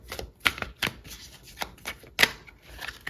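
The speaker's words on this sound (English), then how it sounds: "I can barely get a shuffle in here." Tarot cards being shuffled in quick, uneven bursts of papery riffles and soft slaps, close up and fairly quiet.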